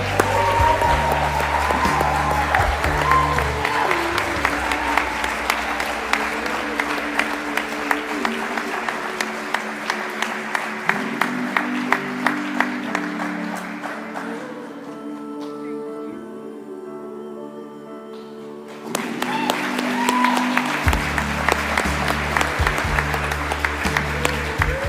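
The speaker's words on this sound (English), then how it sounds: "let's continue that as a round of applause for all of our nominees in this category" Sustained audience applause at the 2024 Tasmania Australian of the Year Awards ceremony, steady clapping over background music that thins out midway and then returns at full strength.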